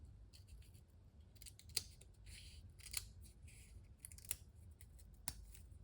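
Scissors snip through card paper during card making, with several quiet, crisp cuts spaced a second or so apart over a low background hum.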